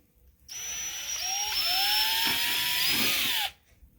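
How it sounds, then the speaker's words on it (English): A power drill whirs steadily for about three seconds, starting and stopping abruptly, its pitch wavering slightly under load. "why they call it a power tool."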